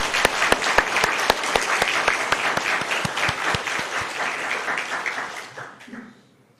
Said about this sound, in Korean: 하나님께 한번 박수 한번 올려드릴까요?